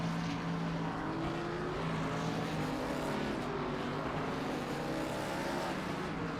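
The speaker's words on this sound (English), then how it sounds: "Man, those SRX sound good going by." SRX race cars roar past in a racing video game, their engines a steady, dense drone with rising and falling pitch sweeps as several cars pass, loud and continuous with no talk.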